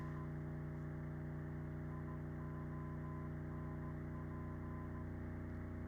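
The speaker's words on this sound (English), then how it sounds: "if you listen very carefully, you can hear some Morse code" A Morse code identifier tone from an ILS (instrument landing system) radio signal, received on a software-defined radio, beeps faintly in dots and dashes under a loud, steady hum and static hiss.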